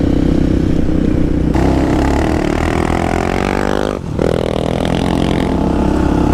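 A Tornado 250 trail motorcycle engine revs hard and close, rising in pitch, dropping off for a moment, then roaring back up, loud and raw against clattering trail noise.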